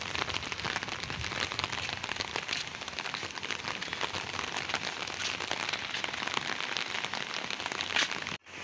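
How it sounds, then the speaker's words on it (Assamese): Rain falling outdoors, a dense continuous patter of drops on surfaces, steady and fairly soft, with no speech over it. "বৰষুণ।"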